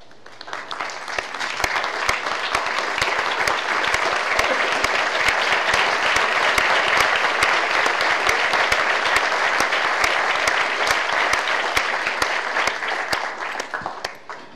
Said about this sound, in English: a rousing ovation, please.